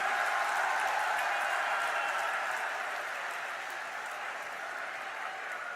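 Crowd applause at a political rally in Barmer welcoming Prime Minister Narendra Modi, a sustained, moderately distant wash of clapping that slowly fades over several seconds.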